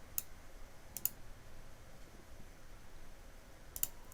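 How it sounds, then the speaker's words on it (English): A few quiet, crisp computer mouse clicks, a pair near the start and another near the end, sitting over faint steady room noise. "Then click the Save Label button."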